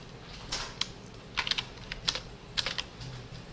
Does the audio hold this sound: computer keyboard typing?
yes